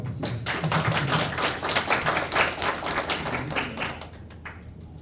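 Audience at a lecture-style ESG school session breaks into applause to welcome a speaker, a dense, lively burst of many hands clapping that builds quickly and then thins out toward the end.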